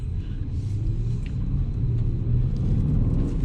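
A Mercedes-AMG GLE 63 S SUV, stated at 600 horsepower, idles with a deep, steady engine rumble heard from close by and without speech.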